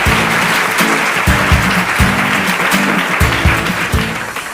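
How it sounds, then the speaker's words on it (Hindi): Enthusiastic studio audience applause on a televised quiz game show, a loud dense wash of clapping that continues steadily without pause and with no voices over it. "जोरदार तालियां हो जाएंगे के लिए।"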